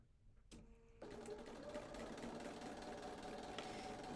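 A sewing machine stitching quilt pieces for a hand-all-around quilt block, starting after a brief clunk and then running in a steady, rapid, close whir.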